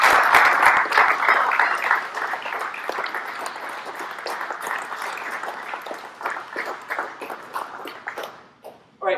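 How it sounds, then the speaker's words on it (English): A round of applause breaks out at a military promotion ceremony, loud at first from the gathered crowd, then gradually thinning into scattered claps that die away before a final few. "So at least a round of applause for our newest"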